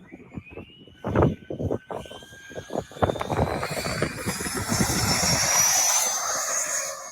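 A radio-controlled model airplane engine revs up for takeoff, the buzzing whine rising in pitch and growing steadily louder and closer before holding a loud, sustained drone.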